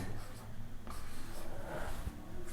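A pen or chalk scratches and rubs across a board as maths is written, close and intermittent, with soft strokes and brief pauses and no clear speech.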